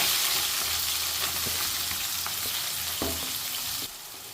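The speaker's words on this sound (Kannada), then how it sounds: "ಈಗ ಕಟ್ ಮಾಡಿ ಇಟ್ಕೊಂಡಿರೋಂಥ ಈರುಳ್ಳಿನ ಇದರಲ್ಲಿ ಹಾಕ್ಕೊಳ್ತಿದ್ದೀನಿ" Chopped onion hits hot oil with cinnamon, cloves and bay leaf, giving a loud, continuous sizzle and crackle with a few faint stirring scrapes, no voices.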